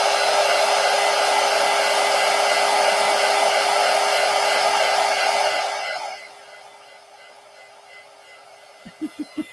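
Heat tool blowing to dry thick paint splatters on gel prints, a loud steady whir for about six seconds that then cuts out, followed by quiet and a few soft taps.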